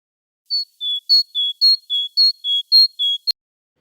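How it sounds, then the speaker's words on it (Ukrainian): A small tit repeats a high, thin two-note call about ten times in quick, even succession, clear and close against silence. "Це синичка."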